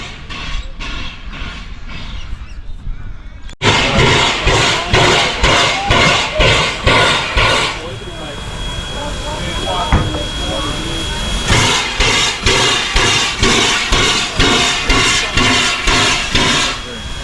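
A train is coupled at the Pichi Richi Railway with repeated rhythmic clanks and thumps, steam hissing between them; a loud metallic jolt comes early, then steady chugging resumes.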